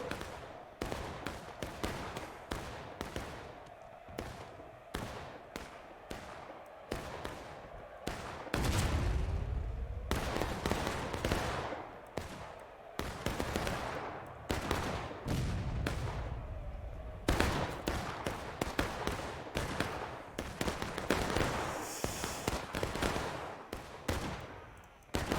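A large Civil War battle in a 200-player video game, where Confederate artillery booms and heavy booms break through constant rolling musket volleys, distant and near, with crackling fire throughout.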